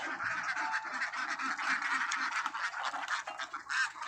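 Ducks on a Thai farm, in a pen being bedded with straw for laying, give a steady mass of overlapping quacks and chatter, fairly close and continuous, with no talk over them.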